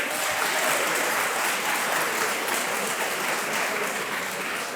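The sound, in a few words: applause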